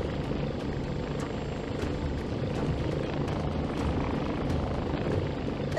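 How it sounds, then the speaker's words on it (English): Helicopter rotors and engines droning steadily in VR game Warplanes 3 Air Corp, a dense, continuous low roar with faint rapid chopping throughout, loud and without talk. "I'm being chased by loads of helicopters."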